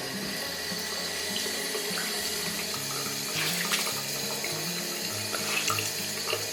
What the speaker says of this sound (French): j'utilise de l'eau tiède pour enlever les taches